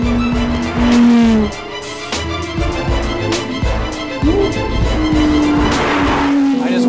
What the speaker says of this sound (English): Tanner, we put you in the Porsche GT3 RS, and Paul Tracy says this color suits you.